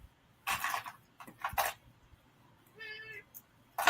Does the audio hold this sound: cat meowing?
yes